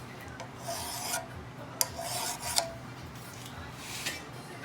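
A safe-edge file rasps across a small metal part, cleaning up radiused edges in a series of irregular strokes, close and fairly quiet, with a few sharper scrapes standing out.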